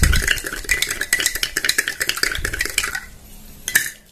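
A herbal drink mixture stirred briskly with a spoon in a container, a steady run of rapid clinking strokes close by for most of the stretch, then a pause and one last louder knock.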